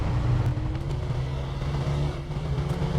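A pickup truck driving in the SnowRunner video game, its engine a steady low rumble that holds throughout with no voices over it.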